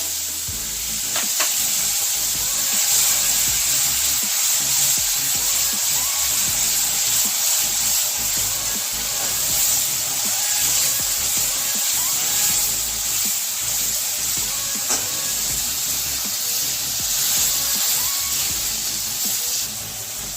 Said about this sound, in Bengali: এবারে তেল গরম হয়ে গেছে, তেজপাতা দিলাম, এবারে পেঁয়াজের পেস্টটা দিলাম